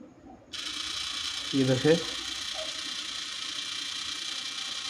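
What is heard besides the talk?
12V 30rpm DC gear motor running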